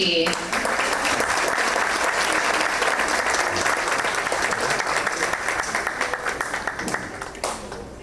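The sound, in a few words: audience applause for Liberty Elementary at a school board meeting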